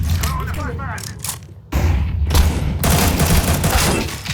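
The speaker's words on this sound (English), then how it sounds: "Use a shotgun." Bursts of gunfire crack out in an online shooter game, with loud shotgun blasts and clattering reports, layered under excited player chatter.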